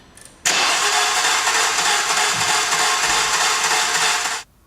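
Car engine with a torn timing belt and no compression cranking very rapidly for about four seconds, a loud, even, fast-whirring starter drone that cuts off abruptly without the engine catching.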